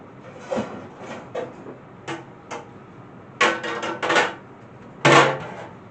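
Pans clattering in a kitchen as one is fetched: scattered metallic clanks and knocks, a few single hits then a quick cluster and one louder clang, fairly close.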